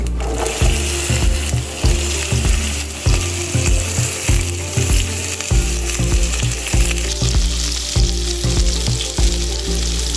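Okra and cumin seeds sizzle loudly in a hot pan, with a steady frying hiss broken by regular hollow knocks and scrapes of stirring, close up and without talk.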